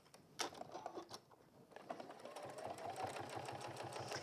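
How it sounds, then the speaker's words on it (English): Sewing machine top stitching bag handles at a longer stitch length, its needle running in a steady fast rhythm close by, with brief starts and stops early on before settling into a continuous run. "I'm just top stitching here"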